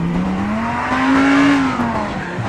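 A supercar's V10 engine in GTA 5 revs loudly and steadily for a couple of seconds, its pitch rising then easing back, close and alone.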